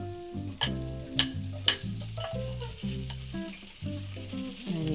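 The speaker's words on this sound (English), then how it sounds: "Once your garlic and shallots are just a little brown, just a little brown, you can throw in your lobster." Lobster sizzles in a pan with butter, garlic and shallots, a steady frying crackle with a few sharp clanks and scrapes as it is tossed. Background music plays underneath.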